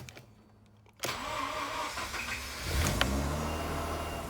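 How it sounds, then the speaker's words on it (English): A Mazda RX8 rotary engine cranks and fires after a quiet moment, then settles into a rough, steady idle that swells slightly as it warms up, close and loud. "you want to warm the car up first"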